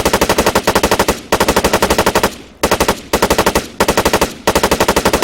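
Light machine gun firing in Arma 3, loud close bursts of rapid automatic fire in four long strings separated by brief pauses, with no talk.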